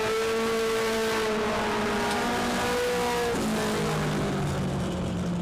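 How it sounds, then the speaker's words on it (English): Race car number 20 roars around Dixieland Speedway, its engine droning loud and steady with the pitch sliding and dropping as it passes through a turn, alone without talk. "Patrick Perry driving car number 20."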